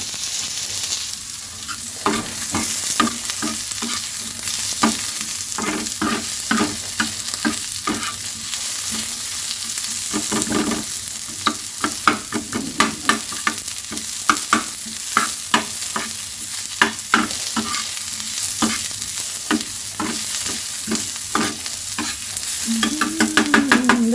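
Sliced onions frying in a pan, stirred steadily with a spatula: a continuous close sizzle broken by rapid, irregular scraping strokes throughout, loud and without any talking.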